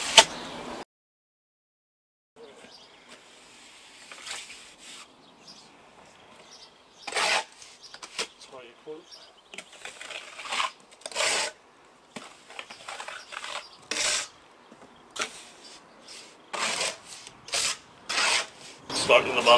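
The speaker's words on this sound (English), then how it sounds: "just gonna scratch the wall here, first coat sand cement" A tool scratches the first coat of sand cement render on a concrete block wall in repeated rasping strokes with short pauses between, moderately close.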